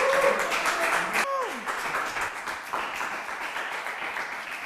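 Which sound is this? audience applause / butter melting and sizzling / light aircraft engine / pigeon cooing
audience applause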